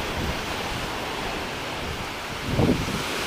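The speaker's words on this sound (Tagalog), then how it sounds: "Medyo maalon kasi baka yung buhangin lang to." Rough surf churning sandy water at a beach resort, a continuous broad roar of waves with a slightly louder surge near the end, with no voices.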